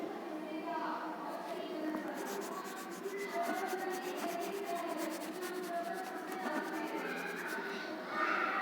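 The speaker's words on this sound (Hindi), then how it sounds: "अब इसको रब कर दूं मैं?" Steady rubbing strokes as writing is erased from a classroom board during an English lesson, a continuous scraping swish running close and fairly loud throughout.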